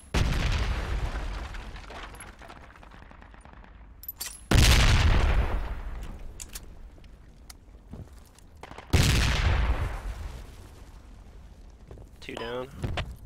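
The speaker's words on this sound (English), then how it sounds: "I'm gonna just nade those guys." In the military shooter game Project Reality, three loud, close blasts go off a few seconds apart, each one a sharp boom that rolls away into a long decaying rumble, with scattered gunfire between them.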